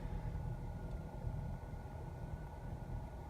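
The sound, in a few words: Nissan Qashqai 1.6 Acenta engine running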